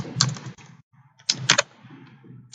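A computer keyboard is being typed on while HTML code is written, giving two close bursts of quick clicking keystrokes with a short pause between them, with no voice.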